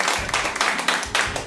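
An audience cheers and applauds together in a broad, continuous crowd roar lasting about a second and a half, with claps pulsing through it.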